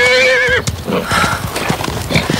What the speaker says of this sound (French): t'es un bon cheval